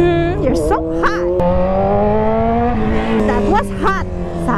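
Loud revving of a Kawasaki Z1000 motorcycle with a very loud aftermarket exhaust, its engine pitch rising and falling in steady sweeps close by, while people talk and exclaim over it.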